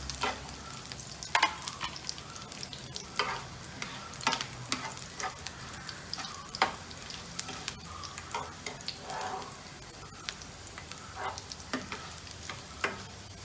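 Vegetables frying in oil in a pan are stirred steadily, with a continuous sizzle broken by repeated scraping strokes of a spoon against the pan, close and moderately loud with no voices.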